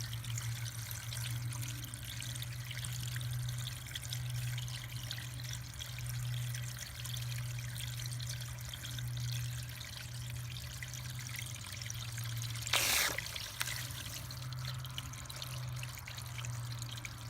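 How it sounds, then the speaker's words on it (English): Tap water runs steadily over oily traps being rinsed, a continuous moderate trickle and pour with a steady low hum beneath and one brief louder splash near the end. "I'll just run this water here for a while until I see all of that oil is gone."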